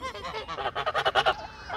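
Geese on a small farm honk in a rapid run of loud, nasal calls, several honks close together and close by.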